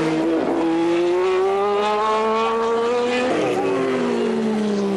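Race car engines roar close by on a speedway, pitch climbing as they accelerate and shifting at gear changes, with a sharp drop in tone as one passes; loud and continuous.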